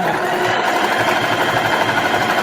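A sewing machine runs steadily and loudly while stitching a reversible bucket hat, a continuous close whir with no pauses and no talking.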